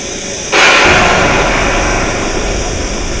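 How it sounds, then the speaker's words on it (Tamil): A sonic boom from an F-18 jet in the Real Flight Simulator game: a sudden loud, broad blast that sets off a sustained roaring rumble of jet noise, close and dominant until the end. "ஸோ அந்த சவுண்ட் பேர் வந்து சோனிக் பூம்."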